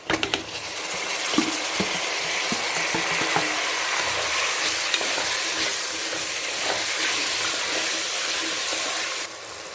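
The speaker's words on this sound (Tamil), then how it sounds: "இப்போ கட் பண்ணி வச்சுருக்க தக்காளி நம்ம சேர்த்துக்கணும்." Chopped tomatoes and mint sizzle and fry steadily in a hot pan while being stirred for Tamil-style tomato rice, with a continuous crackling hiss and a few light clinks of the spoon near the start.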